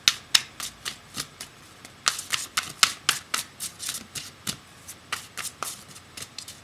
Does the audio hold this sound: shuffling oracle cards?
yes